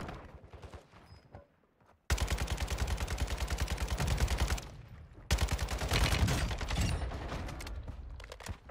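Rapid AK rifle fire in a video game comes after a few quiet clicks: two long, loud bursts of sustained automatic shots with only a brief pause between them.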